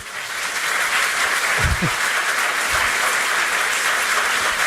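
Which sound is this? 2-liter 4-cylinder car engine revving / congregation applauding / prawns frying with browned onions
congregation applauding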